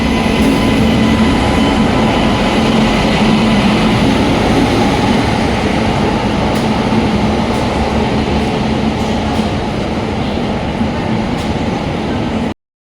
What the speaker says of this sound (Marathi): फायनली आमची ट्रेन आलेली आहे